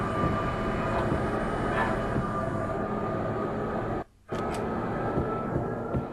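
Train in the video game Max Payne gives a loud, continuous rumbling roar with steady mechanical noise. The sound drops out briefly near the end, then resumes. No one speaks.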